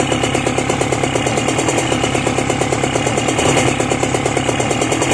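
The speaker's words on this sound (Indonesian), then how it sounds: "Langsung aja sekarang kita engkol." A cold motorcycle engine, kick-started, settles into a steady, close idle with an even pulsing throb that runs unbroken through the whole stretch.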